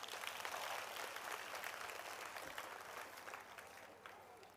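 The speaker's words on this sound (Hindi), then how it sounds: "कृपया धन्यवाद स्वरूप एक तालियां बजाएं" An audience at a pilgrimage anniversary gathering claps in thanks, a broad, continuous patter of applause that gradually fades toward the end, heard quietly and from some distance.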